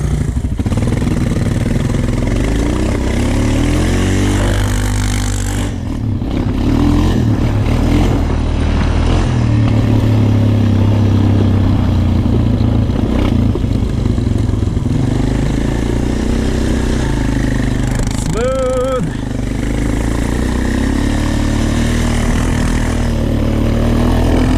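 Honda TRX450 and TRX125 ATVs run through snow, a loud steady engine drone that rises and falls with throttle, close up, with a clattering mechanical edge and a brief lull near the middle.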